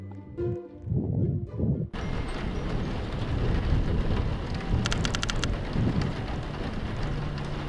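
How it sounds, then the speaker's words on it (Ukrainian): Steady heavy rain pours down in a dense broadband wash in a Roblox game, with deep rolling rumbles of thunder underneath, starting abruptly after a short quiet stretch. "Дощ ще почав порати."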